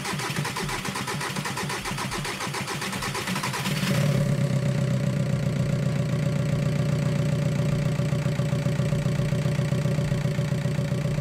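A 1.4/1.9/2.0/2.5 TDI PD diesel engine, just after a cylinder head was fitted, cranks and catches, then settles into a rough, uneven, jerky idle that carries on steadily and loudly without any talk.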